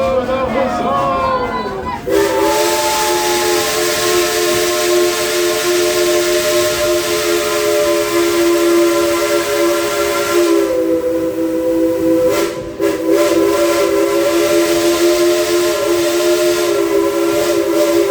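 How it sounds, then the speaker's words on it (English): Dollywood Express steam train whistle blowing long and loud with steady harmonic tones for nearly the whole stretch, dipping briefly once before resuming, after some crowd chatter at the start. "We go 1, 2, 3, blow the whistle."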